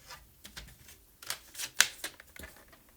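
Cardstock is cut with a paper trimmer at a craft table, a short run of quiet, crisp slicing and clicking sounds with a sharper snap near the middle, no talk.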